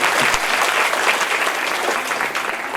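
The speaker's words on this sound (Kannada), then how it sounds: "ನಿಮ್ಮ ಜೋರು ಚಪ್ಪಾಳೆ ಮೂಲಕ ನಿಮಗೆ ಅದು ಅಭಿನಂದನೆ ಸಲ್ಲಿಸಬೇಕು ಅಂತ ನಾನು ಕೇಳ್ಕೊಳ್ತಾ ಇದ್ದೇನೆ" Dense, steady audience applause fills a Women's Day celebration hall, many hands clapping loudly and continuously from start to finish with no voices standing out.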